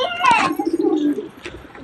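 Domestic pigeons cooing in a home loft, a low soft coo rising near at hand after a brief flutter, with a faint later call.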